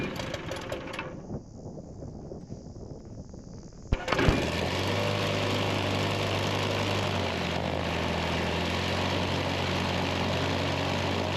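Simulated piston aircraft engine in a flight game sputters through a brief choke-assisted start, then catches with a sharp burst and settles into a loud, steady, droning idle that runs unbroken to the end.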